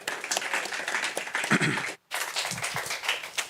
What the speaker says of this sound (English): So if we can give him a round of applause as he introduces his project.